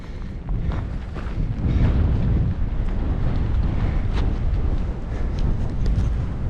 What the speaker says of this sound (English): Man, the wind is a-kicking.